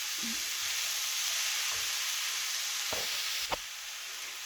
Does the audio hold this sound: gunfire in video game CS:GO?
no